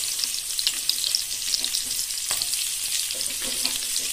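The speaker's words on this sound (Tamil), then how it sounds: "பிரிஞ்சல் நல்லா ஒரு அளவு எண்ணெயில நல்லா ஃப்ரை ஆயிடுச்சு." Brinjal and onion frying in oil in a pan for brinjal masala rice, a steady bright sizzle with occasional stirring scrapes, close and continuous with no talking.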